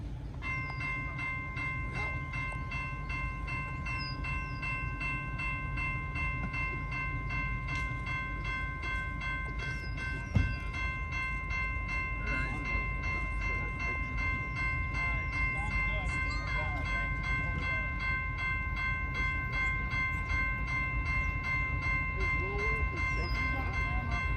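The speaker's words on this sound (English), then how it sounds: "We've been waiting for over an hour for this steam train." The Empress steam train rumbles by steadily in Iowa with clattering wheels and a sustained tonal hum, while faint voices murmur in the background.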